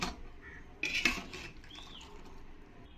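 Boiled jackfruit being moved into a pot, with sharp metallic scrapes and clanks of a utensil against cookware, a few distinct hits amid quieter rattling.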